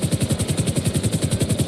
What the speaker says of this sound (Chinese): 使用直升机